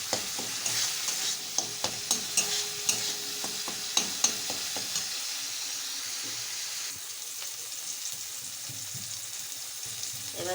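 Mustard seeds, white mustard and poppy seeds sauté in hot oil with a bright crackling sizzle, punctuated by a run of sharp spatula taps against the pan early on, then a softer continuous fry.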